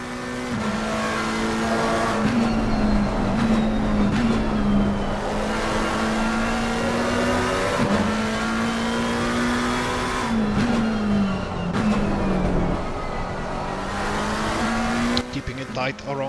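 A McLaren 720 GT3 race car engine in Assetto Corsa Competizione at Imola, revving loudly and continuously, with pitch climbing and dropping through gear changes and brief tire noise, close and dominant throughout.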